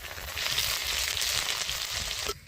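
Chopped green chili and ginger sizzle steadily in hot oil for potato chops, a dense, continuous frying hiss heard up close with no voices, cutting off abruptly near the end.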